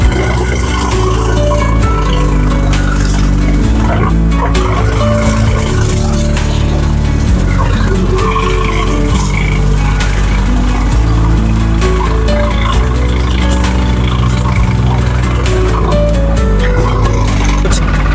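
A tractor engine runs in a flood-damaged maize field, a loud, continuous low mechanical drone with steady rumble throughout, close by and with no talk.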